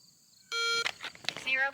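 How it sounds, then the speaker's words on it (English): A shot timer gives one loud, steady electronic beep during a holster draw drill at a shooting range, followed by shorter sharp sounds and busy noise right after. "the timer went off as soon as I grabbed the gun"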